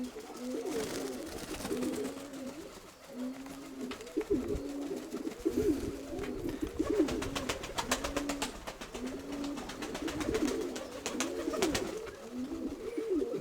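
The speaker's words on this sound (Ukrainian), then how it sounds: "Дуже гарний голуб'яночок." Several pigeons coo continuously in overlapping low, throaty phrases, with soft flapping and scuffling noises mixed in at moments.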